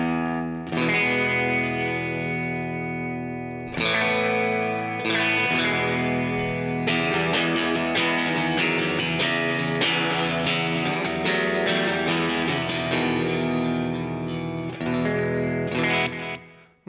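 Electric guitar played through a Line 6 HX Stomp with an always-on reverb, ringing sustained chords and melodic phrases that bloom into long reverberant tails, with brief pauses between passages.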